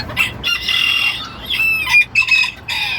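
Bantam chickens, including a hen, cluck and squawk close by in a steady, busy stream, with a few sharp higher calls breaking through and a faint rooster-like note.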